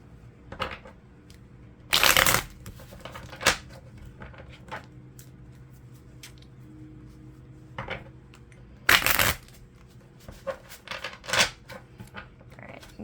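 Tarot cards being shuffled by hand in bursts of riffling and crisp slaps, with two loud flurries and several softer card snaps between quiet pauses, close and with no talking.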